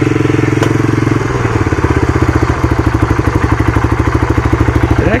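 A 1985 Honda ATC250SX three-wheeler, run after a year of storage, chugs along at low speed, its single engine pulsing in a quick steady beat close up with rattly clatter and no talking.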